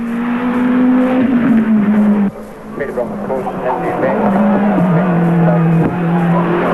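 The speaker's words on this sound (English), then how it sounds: "With the turbo, you can hear the tyres slipping across the ground more than the engine." Turbocharged Nissan Bluebird race car at the 1983 Bathurst 1000, engine droning steadily, then tyres squealing and slipping through a corner, loud and close, under race commentary.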